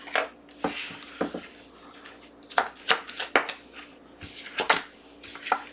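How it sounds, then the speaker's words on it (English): A deck of tarot cards being shuffled by hand, giving bursts of crisp riffling and flicking with soft taps between them, close and fairly quiet with no talking. "This flew out of the deck while I was shuffling it."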